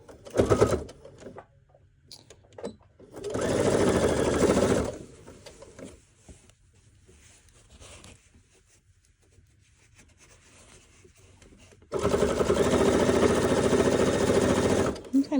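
A home sewing machine stitching a seam on slippery minky fabric runs in three bursts, a short one at the start and two longer steady whirring runs, with quieter handling and talk in the pauses.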